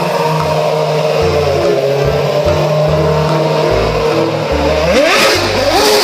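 A toy F1 race car engine revving in loud, pulsing bursts that rise and fall, with a sharp pitch sweep upward near the end.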